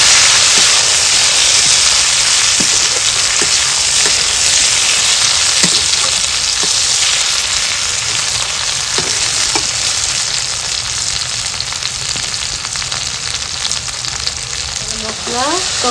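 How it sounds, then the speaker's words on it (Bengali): Chopped tomato frying with spice masala in a pan for jackfruit curry, a loud, dense, hissing sizzle that holds steady throughout, with a few faint clinks of stirring and no talking. "দিয়ে দিব কুচানো টমেটো। দিয়ে ভালোভাবে আরও একটু কষাবো।"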